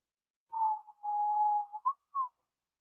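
A person whistles a short, clear tune alone: a held note, a longer steady tone, then two brief chirps, soft and close against silence.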